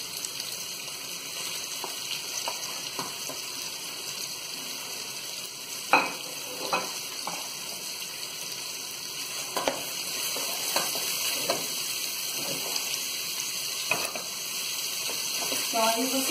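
Bacon frying in a pan with other ingredients for farofa, a continuous close sizzle broken by sharp utensil scrapes and stirring clicks throughout.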